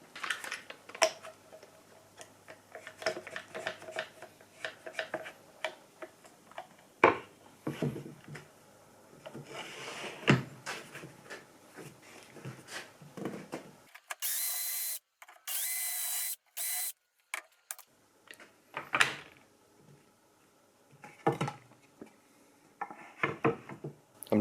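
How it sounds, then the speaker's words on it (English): A series of drilling bursts making dowel holes in wood with a dowelling jig, each a whirring spin-up with sharp ticks and scraping, separated by short pauses and handling noise. "I can start drilling holes."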